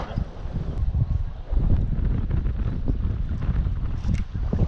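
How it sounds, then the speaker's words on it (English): Steady wind buffets the microphone outdoors on Pewaukee Lake during a musky fishing trip from a boat, a continuous low rumbling roar with gusts and no speech. "This wind could be a little nicer to us, but Yeah, it ain't the worst."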